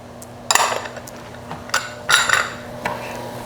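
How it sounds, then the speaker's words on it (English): Chopped onions, peppers and mushrooms dropped into a sprayed cooking pan, with several bright clinks and clatters of utensils against the pan spread at irregular intervals, close and fairly clear, with no talking. "we're going to add in the onions, the peppers, and the mushrooms all together"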